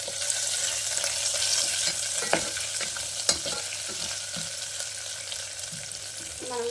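A spoon stirs masala for a baby potato kurma with cardamom and turmeric in a pan, a steady close sizzle of frying with occasional clicks and scrapes against the pan, no talking.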